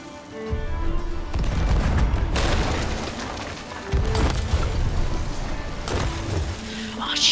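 Heavy booming ship cannon blasts in the Sea of Thieves video game roll out one after another, deep and loud, with rumbling impacts in a noisy naval battle scene.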